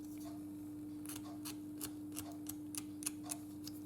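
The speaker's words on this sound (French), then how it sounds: "Avec le cutter, vous venez gratter par-dessus." A craft knife scrapes thin film off a plastic part of a 1/25 scale 1941 Ford Woody AMT model car, with a series of short, sharp, close scrapes at irregular spacing over a steady low hum.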